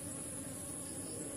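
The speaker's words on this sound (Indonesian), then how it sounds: "karena di sini banyak tawon" Wasps buzz steadily and close at a palm sap tapping site, a dense, continuous insect drone with no pauses and no voices.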